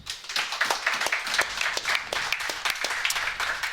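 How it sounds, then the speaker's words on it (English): A burst of steady crowd applause in a pub, many hands clapping together for a few seconds, fairly close. "Thanks to the great fans who showed up. Round of applause."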